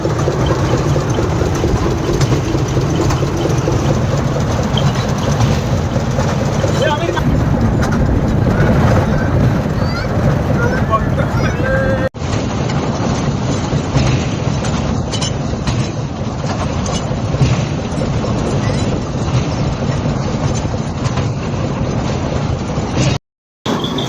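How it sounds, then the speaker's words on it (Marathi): A toy train carrying visitors on Elephanta Island, heard as a loud, continuous rumble and rattle of wheels and engine, steady and close throughout, cutting off abruptly near the end. "ट्रेन चालली आहे मस्त अनुभव आहे"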